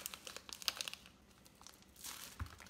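Plastic packaging around a block of mozzarella crinkles and crackles faintly in irregular bursts, then gives a louder rustling tear near the end.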